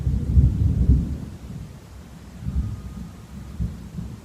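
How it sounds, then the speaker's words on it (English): Low rolling thunder from a Central Florida thunderstorm rumbles in heavy waves, with a deep continuous growl of the storm outside and no voices. "so you may hear the thunderstorm that's going on outside right now"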